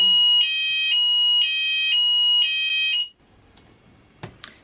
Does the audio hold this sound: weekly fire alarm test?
yes